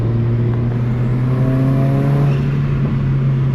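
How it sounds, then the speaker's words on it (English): A turbo four-cylinder car engine hums steadily at a low, even pitch, with a faint whirring rise partway through, close and continuous. "And the 4-cylinder sounds really good for a 4-cylinder"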